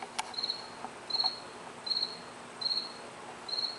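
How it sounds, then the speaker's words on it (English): Crickets chirp in five evenly spaced bursts of rapid trilling, clear and fairly close, with a quiet background and no voices. "Crickets."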